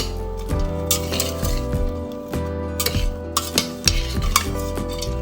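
Fig filling with orange juice and cinnamon stirred in a pot, a run of rhythmic spoon scrapes and metallic clinks against the pan, close and fairly loud, over a gentle bubbling undertone.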